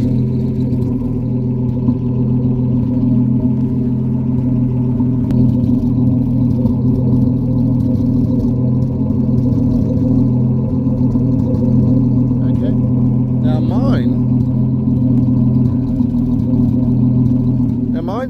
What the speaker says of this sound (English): if you come to the back and you listen to the exhaust, then that gives you an idea of what it should sound like